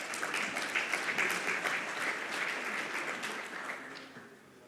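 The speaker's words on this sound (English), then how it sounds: "A round of applause, please." Audience applause at a Namibian public-private business forum, a dense steady clatter of clapping lasting several seconds before fading slightly at the end.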